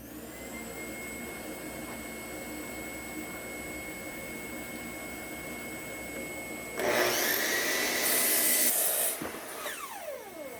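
A power saw cutting material, lengths marked 1500, for a three-tier recycling bin: a steady whine from the running tool, then a louder burst of cutting lasting about two seconds before the blade spins down.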